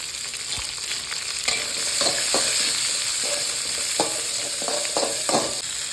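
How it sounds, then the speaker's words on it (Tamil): Small shallots with green chillies, curry leaves, chana dal and urad dal sautéing in a pan for goat blood poriyal, a steady close sizzle broken by repeated scraping stirs with no voices. "இந்த சின்ன வெங்காயம் வதங்குற கலவை லைட்டான உப்பு போட்டு மட்டும் வதக்கிக்கலாங்க"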